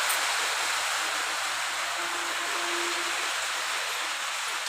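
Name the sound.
heavy rain water falling and flowing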